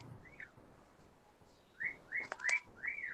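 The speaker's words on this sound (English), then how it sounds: "I think he's whistling at Seamus" A pet bird whistles in short, bright rising-falling notes, a single call first and then a quick series of four or five whistles, fairly close with quiet background.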